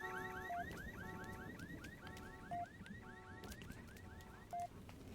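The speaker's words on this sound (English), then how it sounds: "Change the goddamn alarm, goddammit. This alarm sucks." The Halo: ODST game alarm repeats as a looping electronic warble of rising chirps with a short beep every two seconds, steady and fairly quiet over a low background hum.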